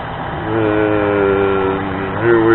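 A mini lathe spinning at just under 500 RPM produces a steady, loud motor hum with a tonal whine that swells slightly and then drops back, with no talking.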